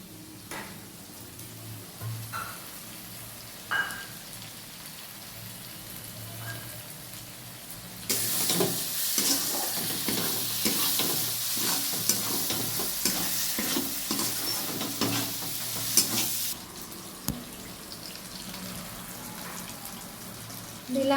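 Chow mein wheat-flour noodles hit a hot pan with a loud, steady sizzle of stir-frying after a quieter stretch of kitchen clatter, the sizzling holding for several seconds before dropping off, with occasional utensil clinks and no talk.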